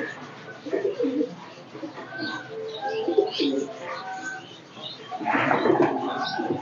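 Soft, low cooing of pigeons repeats throughout, with a few chirps mixed in and faint voices in the background.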